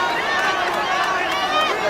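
Crowd at a Dambe bout, traditional Hausa boxing, giving off a dense, steady roar of many voices and cheers, loud and continuous with no break.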